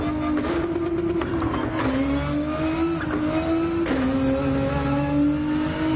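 Nissan GT-R engine in Gran Turismo 7 racing hard, a steady loud drone rising and dropping through gear changes with brief tire squeals, continuous throughout.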